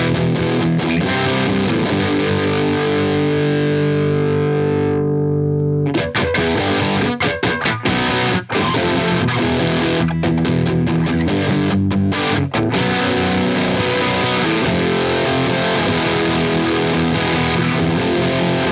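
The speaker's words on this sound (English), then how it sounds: "There is so much distortion on tap" A heavily distorted electric guitar through an Iron Horse V3 distortion pedal and an Orange amp plays dense, saturated chords with a brief thinning before the full crunchy roar returns.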